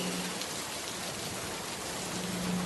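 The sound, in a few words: rain sound effect in an audio drama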